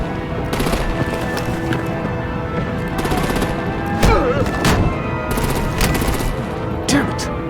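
Dense automatic gunfire and artillery bursts rattle through a battle scene in the video game Batman The Enemy Within, with several loud volleys and a heavier boom near the middle over a constant roar.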